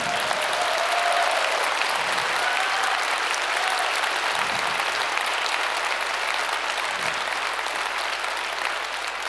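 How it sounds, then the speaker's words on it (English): Audience applause during the EVE Online Fanfest 2014 keynote, a large hall filled with continuous loud clapping that stays even for the whole stretch. "Let's give them an applause."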